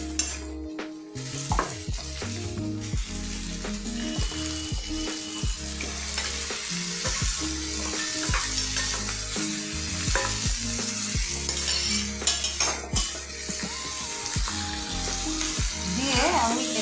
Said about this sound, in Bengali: আমি এটাকে ভালো করে একটু নেড়ে চেড়ে মিডিয়াম হিটে নেড়ে মিডিয়াম হিটে রাখবো